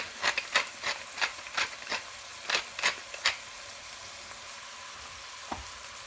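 Onions frying in a pan with salt and fresh ground pepper for a pasta sauce, a quiet steady sizzle broken by a series of sharp scraping clicks as a utensil stirs, then mostly soft sizzling alone.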